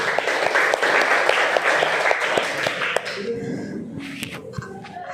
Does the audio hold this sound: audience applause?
yes